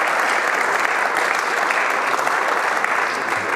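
Sustained applause from an audience at a panel discussion fills the room, dense and even throughout with no voices.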